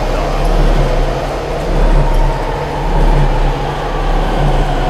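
A fast-moving train inside the Dead Space video game produces a steady, loud rumbling roar with low mechanical drone, swelling slightly in waves throughout, with no talk over it.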